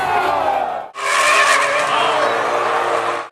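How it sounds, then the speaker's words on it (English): A barn-find race car spins out on the start-finish straight after a nudge from behind during a 24 Hours of Lemons endurance race: loud, sustained tire skidding and engine roar, briefly cut off then surging back for several seconds. "he got a nudge from behind and went into a dramatic spin"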